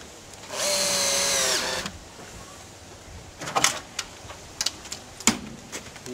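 A power drill whirs steadily for about a second, driving a self-drilling screw into a Roamsafe door during installation, followed by scattered light clicks and knocks of handling.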